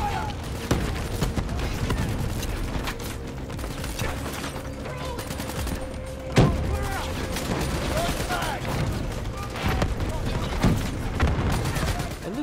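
Call of Duty Black Ops 3 firefight with bursts of automatic gunfire and a heavy grenade-like blast near the middle, dense mechanical clatter continuing throughout, no talking.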